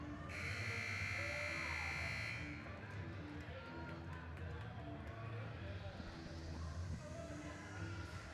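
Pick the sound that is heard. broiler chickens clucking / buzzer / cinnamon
buzzer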